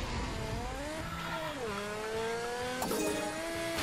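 A race car engine in the video game Table Top Racing revs high and whiny, pitch climbing, dipping and climbing again as it shifts through gears, loud and continuous with a sharp burst near the end.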